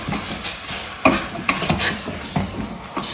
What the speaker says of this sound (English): And I'll stir it in and cover it up.